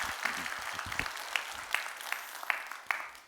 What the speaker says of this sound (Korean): 다시 한번 박수 한번 해주셔요